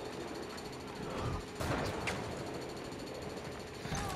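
Distant gunshots crackle in the online shooter Battlefield 2042, coming as a few scattered bursts against a low, steady background hum.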